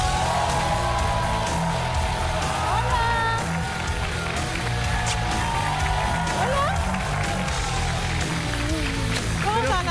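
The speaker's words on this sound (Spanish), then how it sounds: "El aplauso para Daniela Aránguiz." A Chilean TV studio audience applauds and cheers for Daniela Aránguiz, a loud continuous wash of clapping and whoops over music and a low steady bed of sound.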